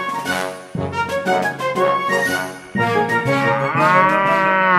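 A cow moos in long, loud, drawn-out calls, several bellows in a row with no pauses between them, heard up close in a cartoon toy scene with no talking over them.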